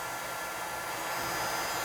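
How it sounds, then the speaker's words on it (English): A hair dryer blows with a steady, airy whoosh that holds constant and fairly close, with nothing else audible. "it's good to have a hair dryer or heat gun and stuff lying around"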